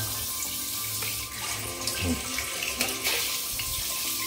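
A shower runs steadily, water splashing in a continuous close hiss with a few small clatters mixed in.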